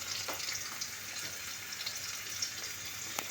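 Chopped ginger sautéing in a small amount of cooking oil gives a continuous, even sizzle and fry hiss at close range, with a few faint clicks of stirring.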